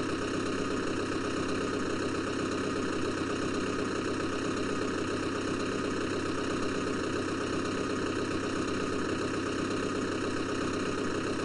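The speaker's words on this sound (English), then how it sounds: "when your tractor goes by, I only hear the sound of it for like a couple seconds" A steady, droning tractor engine in Farming Simulator 2011 idles without change from start to finish, a constant low mechanical hum with no voices.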